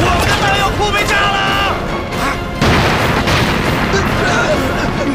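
Heavy explosions rip through an ammunition depot in a Second Sino-Japanese War action film, a continuous loud wall of booming blasts and crackling gunfire-like bursts with voices shouting underneath.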